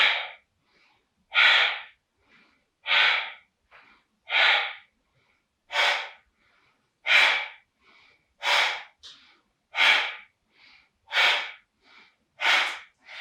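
Deep, slow breaths during a yoga exercise, about ten long regular exhale-like rushes evenly spaced with short pauses, close and clear with no talk.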